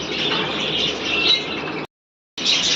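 Dense chorus of budgerigars chattering and chirping together at a large breeding farm, fairly close, with a brief silent gap before the twittering resumes.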